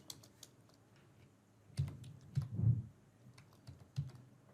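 Keys tapped on a computer keyboard, a few sparse quiet clicks and then a short flurry of soft presses, close and otherwise nearly silent.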